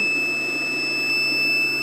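A power inverter's buzzer emits a steady, high-pitched electronic whine that holds unbroken throughout, close and fairly loud.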